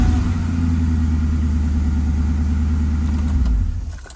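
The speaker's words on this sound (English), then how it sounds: "So this should start the car." A 1999-2004 Ford Mustang engine runs close and loud with a steady low hum, then cuts off abruptly just before the end.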